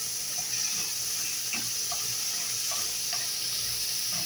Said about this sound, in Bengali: চিংড়ি মাছটা এখানে আমি ঢেলে দিলাম